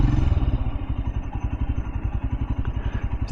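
A 2024 Royal Enfield Scram 411 motorcycle engine chugs with a rapid, even low-pitched pulse, close and steady, as if rolling slowly or idling in traffic.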